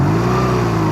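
A steady, close vehicle engine drone during a ride on the road in traffic, loud and continuous with no talk.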